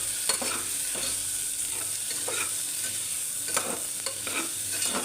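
Lentils with salt and turmeric sizzle in a hot pan while a spoon stirs them, a steady bright frying hiss broken by several scraping stirs, close and fairly loud, with no voices.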